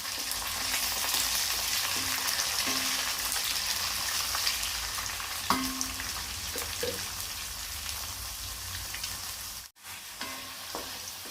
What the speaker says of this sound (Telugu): ఇప్పుడు మనం కొద్దిగా శనగపప్పు తీసి వేసుకుంటాము పోపులోకి.